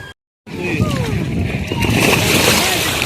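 Water splashes and sloshes continuously as children swim in warm water with an air mattress, with voices talking over it after a brief silent gap at the start.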